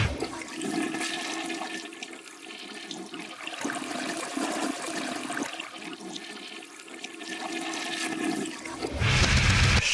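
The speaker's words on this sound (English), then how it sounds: "The Flush." A toilet flush rushes loudly and steadily for several seconds, close by and alone, with a louder surge of water near the end.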